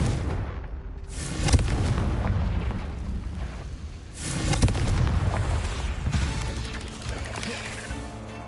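Fiery blast of the Confringo explosion spell in Hogwarts Legacy, a pair of heavy booming bursts with rumbling low end, loud and close over a dense game soundscape.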